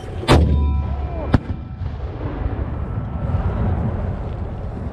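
An 81mm mortar launches a red phosphorus round with one loud, sharp blast, then a second crack about a second later, and a long rumbling decay over outdoor ambience.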